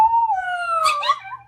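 A parrot imitating a dog: a loud, close whine that slides slowly downward, then breaks into a couple of short yelping barks.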